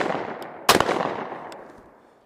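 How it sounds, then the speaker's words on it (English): A single loud, sharp shot from a Browning Citori Hunter over-under shotgun, fired close by, with a ringing decay trailing off over the next second and a half. "Just gonna fire off a couple shots here, see what the recoil feels like. We'll start with the Citori."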